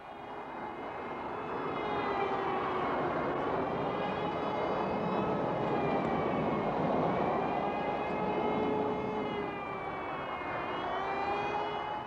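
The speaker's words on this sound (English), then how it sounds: "As the jets roared in," Phantom fighter jets roaring in on a bombing raid over Damascus, a loud, sustained engine roar with shifting whine that swells and holds for several seconds, with no voices.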